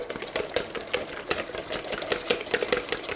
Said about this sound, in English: we're going to give our eggs a little whisk, just with a fork